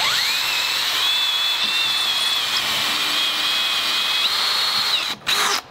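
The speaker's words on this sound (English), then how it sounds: "We're gonna install the 3-inch screws, so we're gonna drill all the way." A power drill drives 3-inch screws through a door strike plate into the stud, a loud, close, continuous high whine holding steady pitch for about five seconds before cutting off with short bursts.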